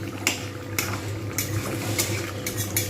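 Coriander chicken curry bubbling in a pot on the stove, a soft continuous simmer with occasional utensil clinks and stirring knocks nearby.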